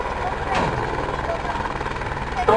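A Eurocopter AS350 helicopter flies a demo at an outdoor helicopter show, its steady rotor and engine drone continuous in the background while someone talks over it.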